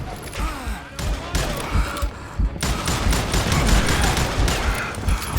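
Rapid gunfire in Call of Juarez: Gunslinger, loud close bursts of quick shots that come in dense volleys with short gaps between them and carry through the whole stretch.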